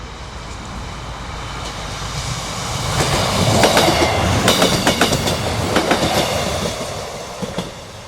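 Passenger train unit 158789 running along the line beside the A66 at Cargo Fleet: a rumble rises from about three seconds, with rhythmic clickety-clack wheel beats peaking mid-clip, then slowly recedes into background noise.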